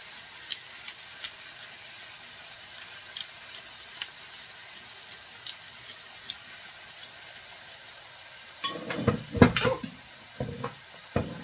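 Shrimp hitting a pan of squash for a coconut-milk vegetable stew, with a quiet sizzle for most of the stretch, then a burst of stirring, scraping and clattering utensil sounds near the end.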